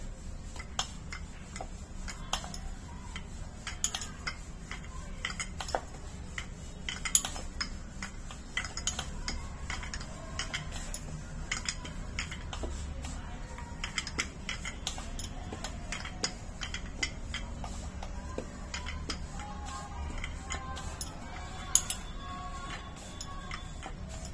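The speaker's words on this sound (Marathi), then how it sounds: "सर्व बाजूनी एकसमान अशी पोळी लाटायची आहे" A rolling pin presses flatbread dough against a board in a steady run of soft taps and light knocks that continues for over twenty seconds, faint and close, with no talk.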